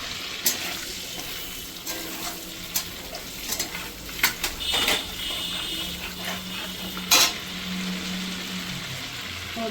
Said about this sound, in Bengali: এবার আমি এটাতে দিয়ে দেবো ফোড়নটা। এটা আছে দারচিনি, এলাচ, লবঙ্গ আর জিরে, আর এটা আছে একটা তেজপাতা।